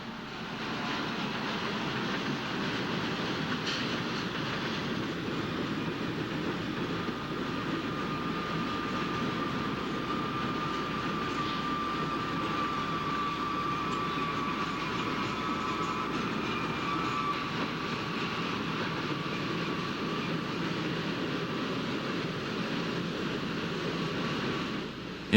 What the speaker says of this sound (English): Wood products, grain, coal, iron ore, and intermodal trains seem to dominate